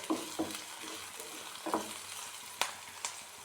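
Curry leaves drop into a hot pan of softened onion for a brinjal mezhukkupuratti, giving a soft, steady sizzle broken by several sharp crackles and spatula taps at uneven intervals.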